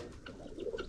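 Pigeon-like birds at a feeding spot with maize and rice give soft, low cooing calls, close and fairly clear, with a light outdoor background.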